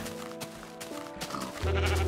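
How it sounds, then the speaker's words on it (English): Sheep bleating in the Minecraft game, a couple of short blocky bleats amid game sounds, the last one louder and sustained near the end. "You too, sheep."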